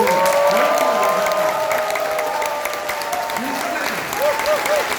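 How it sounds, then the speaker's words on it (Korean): Big audience applause breaks out at a Korean corporate gathering, steady and loud throughout, with music tones drifting over the clapping and a voice briefly audible beneath it. "작은 박수 말고 큰 박수."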